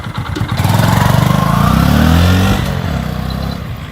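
Close up, a Hero Glamour 125 motorcycle engine runs with a steady thumping pulse. It rises briefly in pitch and then eases back toward a calmer idle, with no speech.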